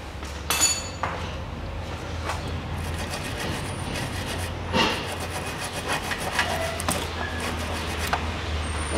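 A sprayed bolt thread on the rear support silent block of a 2008 Nissan Qashqai 2.0 4WD suspension is scrubbed clean, giving continuous rasping, rubbing strokes with a few sharper metallic knocks, close and fairly loud.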